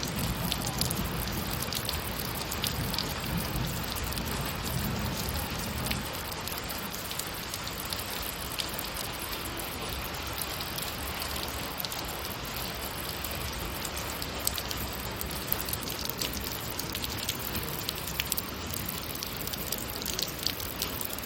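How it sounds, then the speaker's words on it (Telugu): Steady rain falls without a break, a dense, even hiss of drops striking surfaces close by, loud and continuous for the whole stretch with no voices. "వర్షం వస్తుంది."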